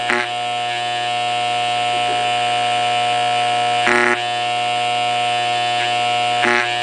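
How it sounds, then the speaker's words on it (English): A homemade AC magnetic field vacuum pump runs with a steady electric buzzing hum, broken twice by short, louder bursts of rattling noise. "you see the pump did not stop to working"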